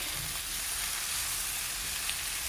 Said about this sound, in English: leave it to fry for about 3 to 4 minutes